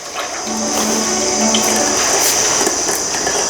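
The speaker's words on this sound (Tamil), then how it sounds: "இந்த தேங்காய் எண்ணெய் ஒரு பத்து லிட்டர் ஊற்றிக்கலாம்" Cold-pressed coconut oil from a traditional wooden press pours in a steady, continuous stream, loud and close, with a faint hiss of liquid filling a container and no voices.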